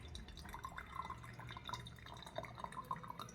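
Water trickles and drips into a facial steamer's reservoir in quick, irregular splashes and plinks, quiet and close with no talking.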